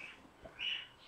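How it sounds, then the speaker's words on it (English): Pet birds chirp indoors in a room, a short bright tweet standing out briefly over quiet background hiss. "Can you hear my birds?"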